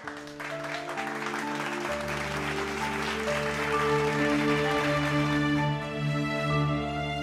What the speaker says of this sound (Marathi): अरे टाळ्या वाजवा की काकीसाठी